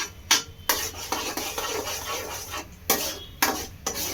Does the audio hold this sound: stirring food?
yes